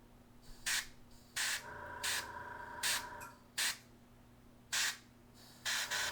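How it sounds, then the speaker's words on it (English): Airbrush spraying paint onto miniature doorways for a board game, several short bursts of hissing spray at close range, separated by pauses with a low background hum. "Takes a lot of practice to be this precise with your airbrush."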